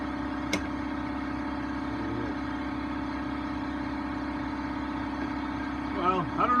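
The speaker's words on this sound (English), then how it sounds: "I don't know if you can hear me with the air compressor going" A shop air compressor drones steadily and close at a constant pitch, with a brief sharp clank early on and a little rising noise near the end.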